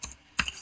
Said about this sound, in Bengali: রেশন কার্ড লিখে এন্টার করুন।